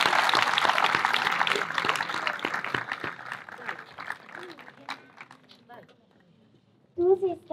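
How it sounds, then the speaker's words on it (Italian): Audience applause for young performers at a memorial plaque ceremony in Rivara, fairly loud dense clapping that thins out and fades, followed by a brief burst of voices at the end. "Fate un applauso ai vostri ragazzi perché sono stati bravissimi."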